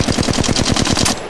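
Rapid automatic gunfire from Apex Legends Mobile, a steady burst of about a dozen evenly spaced shots at close range, loud and continuous with no talking over it.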